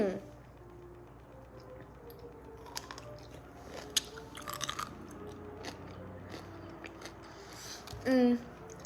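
Grillo's pickle spear being chewed, with scattered crunchy bites and wet chewing sounds, close and fairly quiet, ending in a louder burst.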